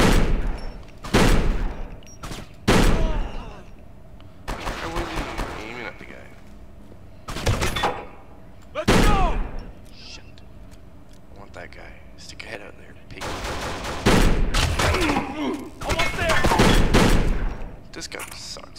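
Gunfire in the shooter Kane and Lynch 2 comes in scattered loud bursts, single shots and short rapid volleys separated by pauses, with voices talking over and between them.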